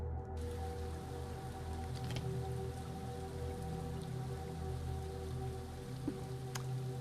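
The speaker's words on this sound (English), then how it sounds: "I hear rain." Rain falls in a video game, a soft, steady patter of drops on surfaces with a few isolated drips, faint and continuous over a low hum, with no speech.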